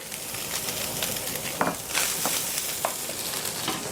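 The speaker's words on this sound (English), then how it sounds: "I'll just saute this until my onion is tender" Ground beef with onion and garlic sautéing in a pan for a shepherd's pie, giving a steady close sizzle broken by a few sharp spatula scrapes and stirs, with no talking.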